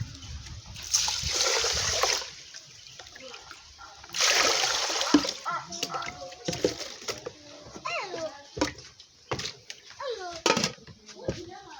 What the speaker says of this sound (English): So I want to add water.